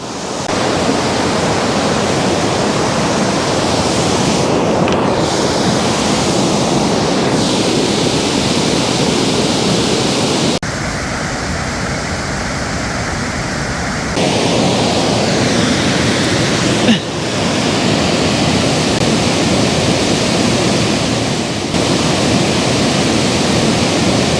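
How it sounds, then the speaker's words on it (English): A waterfall rushes as a loud, continuous, broadband roar on a freezing winter day, steady throughout apart from brief shifts in tone, with no talk. "We're going to have to get a picture by the waterfall."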